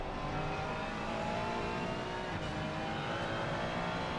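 A damaged race car's engine drones steadily at high revs in a Nordschleife endurance racing game, a continuous loud motor tone with no break and no talk over it.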